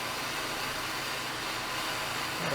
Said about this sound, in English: So I'm only going to be welding the outside perimeter